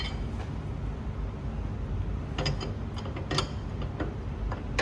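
Spanners turn the spring perch on coilovers fitted to a Ford Falcon, giving light metallic clicks and taps over a low rumbling background, close and intermittent.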